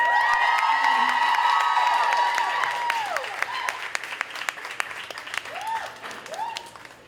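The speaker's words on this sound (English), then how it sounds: "I want y'all to give a huge round of applause for my girl crush," A large crowd applauds and cheers for Suzette Quintanilla at a Spoiled Latina Day keynote, dense and loud at first, then thinning into scattered claps and whoops.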